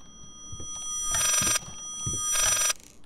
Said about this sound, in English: God, that ringing's annoying.